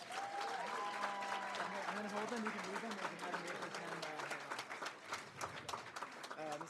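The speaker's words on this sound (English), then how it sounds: "Round of applause for them." Applause from the audience at a city council meeting during a certificate presentation, steady and fairly loud throughout, with people talking over it.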